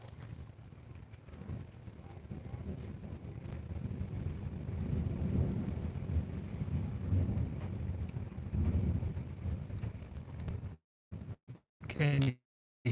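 Distant thunder from a dry lightning storm over mountain villages, a low rumbling roll that swells and fades over several seconds beneath wind buffeting the microphone, before the recording cuts out in choppy fragments.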